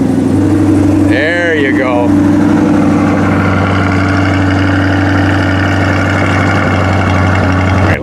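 A 2021 Corvette's V8 engine catches and settles into a steady, loud, deep idle close by, with a revving rise at the start and people speaking over the rumble.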